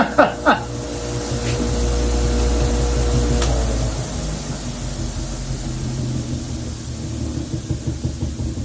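A bench grinder, 3,600 RPM with a 5/8 arbor, runs on a flimsy shop table, giving a steady low hum and whine for about four seconds before winding down, with faint rattling afterward.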